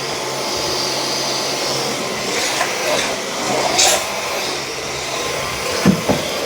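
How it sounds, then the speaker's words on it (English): A Dyson V9 cordless vacuum cleaner runs on medium power across a floor, a steady close whining drone throughout with a few bumps and knocks, while someone talks over it. "Medium does a little bit better job of vacuuming."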